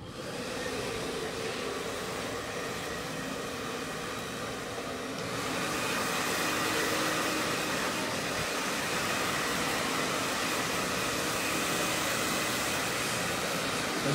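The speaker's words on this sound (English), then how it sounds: "Now we'll blast it with a dryer." A hair dryer blows with a steady, airy roar that grows louder and harsher partway through, then holds constant without pause.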